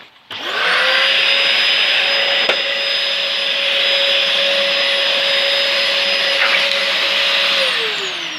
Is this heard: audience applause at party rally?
no